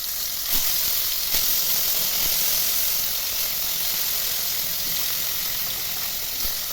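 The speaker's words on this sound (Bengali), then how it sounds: "তেলও হয়ে গেছে গরম। তাহলে আমি এর মধ্যে এবার মাছগুলো দিয়ে দিচ্ছি।" Live climbing perch dropped into hot oil in a wok sizzle steadily, a dense, bright hiss that holds evenly throughout with a few small pops and crackles, close and fairly loud with no voices.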